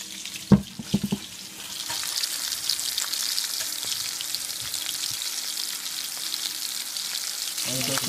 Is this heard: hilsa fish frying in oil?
yes